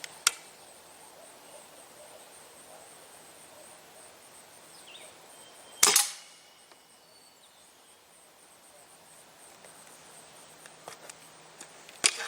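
A Stoeger A30 air rifle fires a JSB Hades pellet in one sharp, loud crack near the middle, with a brief tail. A faint snap comes at the start and another at the end over quiet room noise.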